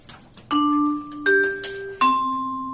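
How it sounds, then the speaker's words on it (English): A 2-5-1 chord progression played on a keyboard, three sustained chords one after another, each struck cleanly and left ringing before the next. "So, like, 2 5 1 sounds like this."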